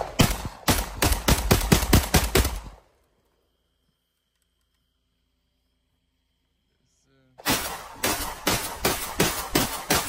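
An AK-12 rifle with a 10-round magazine fires a quick string of sharp, loud shots. A few seconds of silence follow, then another rapid volley.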